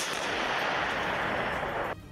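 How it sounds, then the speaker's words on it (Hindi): Russian artillery guns firing shells at enemy positions in the war in Ukraine, a dense, loud roaring blast of gunfire noise sustained for about two seconds before cutting off sharply near the end. "रूसी सैनिक इस घातक हथियार से दुश्मन के ठिकानों और अमेरिकी तोप पर दनादन गोले दागते"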